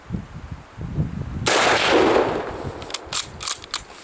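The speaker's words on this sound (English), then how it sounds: "let's go ahead and shoot this thing at some distance here" A Mosin Nagant M91/30 rifle in 7.62x54R fires one loud sharp shot outdoors that rings out into a long echo, followed by metallic clicks of the bolt cycling and the ejector working.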